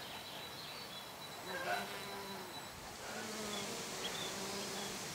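Honey bees buzz steadily at a moderate distance around flowering plants outdoors in June, a continuous hum over soft open-air ambience.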